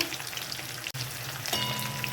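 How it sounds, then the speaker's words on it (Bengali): Hilsa fish pieces sizzle in hot oil, a close, steady crackling fry broken by a split-second dropout, then resuming slightly louder with light utensil touches. "দু পিঠটা একদম হালকা করে একটু ভেজে নিলাম"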